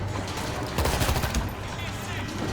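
Automatic gunfire from a World War Z co-op fight in Moscow, a steady loud rattle of close shots with one denser burst in the middle and what sounds like voices mixed in.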